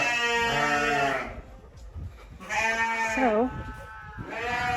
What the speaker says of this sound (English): my neighbor I think he just weaned his calves. So, there's a lot of crybabies out here tonight